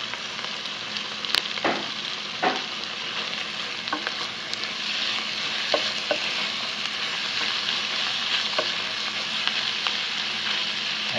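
Chicken breast and gizzards sauté in a hot pan for chicken igado: a constant close sizzle with occasional scrapes and clacks of stirring.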